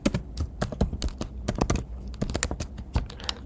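Rapid computer keyboard typing, a run of crisp clicky keystrokes in uneven bursts with brief pauses, close and fairly quiet with no talking.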